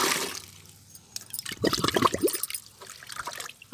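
Tea powder is mixed into water to make fertilizer for rose plants, producing a soft pour and then a burst of swirling, sloshing liquid in the middle before it quiets down.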